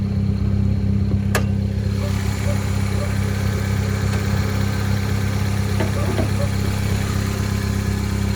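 A Toyota Corolla engine idles with a 3.5-inch stainless cat-back exhaust, giving a steady, loud low rumble that holds throughout with one brief click near the start.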